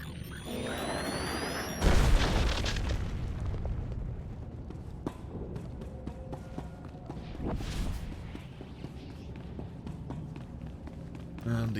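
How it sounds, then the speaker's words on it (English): A planted explosive detonating in Star Wars: The Old Republic, a sudden boom that rolls into a long rumbling blast with scattered debris and crackle, loud and close, over continuous game background sound. "Here's one of the explosives that the Imperials planted. It's not a very impressive explosion."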